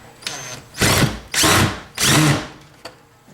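A power drill drives a screw into a wall stud in three loud, close bursts of roughly half a second each, separated by short pauses, with small clicks between them.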